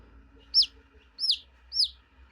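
A baby chick gives three loud, sharp, evenly spaced chirps, each a quick rising-then-falling peep, heard close and alone against near silence.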